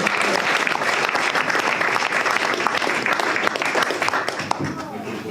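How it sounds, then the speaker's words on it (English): An audience at a boxing promotions press launch claps in a sustained round of applause, fairly loud and dense, with a few sharper claps and faint voices near the end. "Can we have a round of applause for being such a nice guy?"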